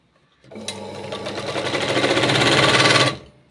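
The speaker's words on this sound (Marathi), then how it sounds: "मेन फॅब्रिक जे आहे ते खाली ठेवायचं आहे आणि त्याच्यावर अस्तर ठेवून या पद्धतीने इथं शिवून घ्यायचं आहे खालच्या साईडने" A sewing machine stitches blouse lining onto the main fabric, a steady close whirring run that builds in speed over about two and a half seconds and then stops abruptly.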